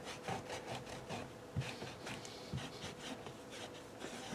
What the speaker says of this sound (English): So it's just going to take a bunch of this scrubbing, I think.